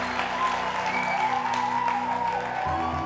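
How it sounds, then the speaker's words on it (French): Applause from an audience at a French event, steady clapping noise throughout, with sustained tonal background sound and a shift near the end. "Merci d'applaudir pour Alexia, Binta."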